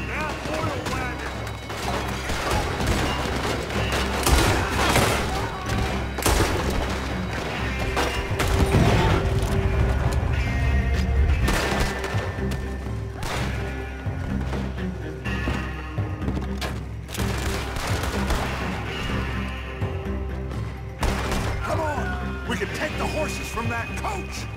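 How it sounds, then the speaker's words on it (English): Dense gunfire from a Red Dead Redemption 2 shootout, rapid overlapping shots and bursts with occasional booms running continuously, loud and busy, with characters shouting over the fight. "Gun them down, and let's get the hell out of this place!"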